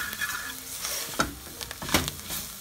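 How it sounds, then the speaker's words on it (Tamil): Chicken chukka masala sautéing and spluttering in a pan, a close bright sizzle broken by repeated spatula scrapes and stirring strokes, with sharper crackles near the middle and end. "பொரியும், வாசம் வர பொரிய விடுங்க. ஒரு 5 நிமிஷமாக நல்லா வதக்குங்க."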